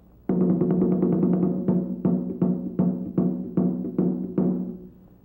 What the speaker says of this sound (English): The drum enters with a flurry and then proceeds with its standard beat